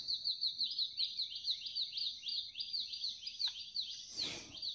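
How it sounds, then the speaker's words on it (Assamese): Early-morning birdsong at about six o'clock: a rapid series of high, repeated chirps runs steadily, with a brief louder burst of rustling noise near the end. "এইখিনি সময়ত চৰাই চিৰিকটিৰ কোলাহলখিনিৰ সৈতে পৰিৱেশটো বহুত ভাল লাগে নহয়নে?"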